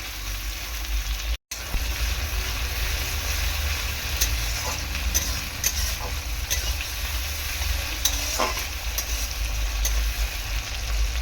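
Chopped tomato and tilapia fish curry with mustard and ginger paste cooks in a pan. Oil sizzles and crackles loudly and steadily, with occasional stirring scrapes and a brief dropout.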